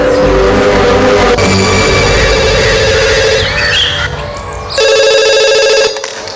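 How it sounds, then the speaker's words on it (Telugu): A telephone rings loudly in a continuous electronic trill that briefly softens, then resumes before cutting off near the end. "ఒకసారి మాట్లాడదామని ఫోన్ చేశాను"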